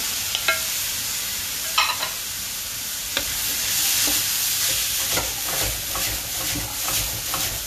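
Pepper and pineapple sizzle in a frying pan, a steady hiss with occasional sharper clicks and scrapes as the pieces are moved around, close by and with no speech.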